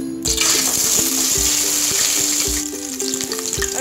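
Onion drops into hot oil and a loud, close sizzle bursts up at once, then hisses steadily while a spoon knocks against the pan in regular strokes, with a low hum underneath and no speech.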